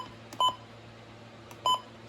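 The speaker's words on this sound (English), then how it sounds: "I do have the button beeps turned on for this one" Two electronic button beeps from a radio's menu, short clean tones spaced about a second apart over a low steady hum.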